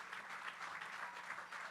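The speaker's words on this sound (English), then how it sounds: "Let's give them a round of applause." Round of applause from a village community audience, steady dense clapping, fairly faint and distant, sustained through the short moment.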